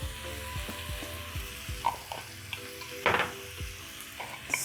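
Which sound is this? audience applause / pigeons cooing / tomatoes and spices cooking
tomatoes and spices cooking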